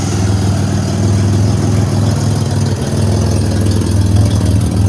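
A 2007 Pontiac Grand Prix with a ZZP XPZ cam idles loudly and close up, a steady lumpy rumble with a rhythmic lope throughout and no talking.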